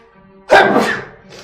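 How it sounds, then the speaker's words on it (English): One loud, sharp human sneeze bursts out after a quiet moment at a tabletop role-playing game session, then trails off into a brief breathy tail, close to the microphone. "Bless you."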